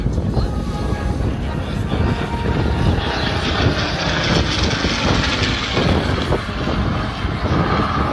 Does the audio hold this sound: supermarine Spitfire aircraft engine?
yes